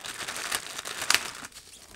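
A plastic bag holding metal parts crinkles faintly during the unboxing of a Kenwood KSC-SW11 subwoofer, with short rustling bursts and one sharper crackle.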